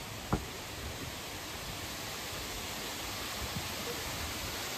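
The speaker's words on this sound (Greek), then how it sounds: "Και εδώ πέρα ακούγεται πολύ περισσότερο το νερό." Enipeas river water rushing down cascades in a gorge, a steady broadband roar filling the whole clip with no talk over it.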